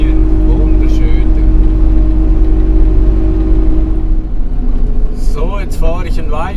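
A car cruising along a coastal road through pine woods in Tuscany's Maremma, steady close engine and road drone throughout, with a brief rising whir near the end.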